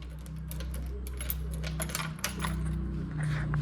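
Keys for a dirty motorbike jangle and clink in a series of light metallic taps over a steady low hum, fairly close and moderately loud.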